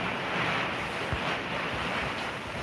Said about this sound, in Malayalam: നമ്മുടെ കാറ്റുണ്ട് കണ്ടോ നല്ല കാറ്റത്